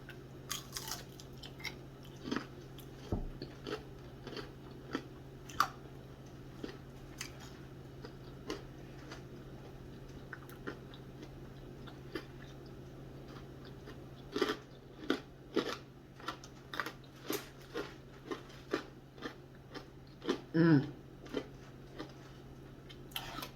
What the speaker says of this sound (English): That crunch is so satisfying.